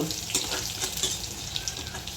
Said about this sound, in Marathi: जिरं मोहरी तडतं ना जिरं मोहरी तडली की